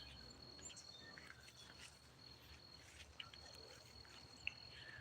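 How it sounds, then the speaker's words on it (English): A cricket chirps outdoors in a yard, a faint, steady, high trill carrying from a distance over low background noise, with a few soft bird calls and no talk. "the cricket is somewhere over there"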